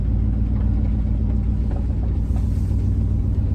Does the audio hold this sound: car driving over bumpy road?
yes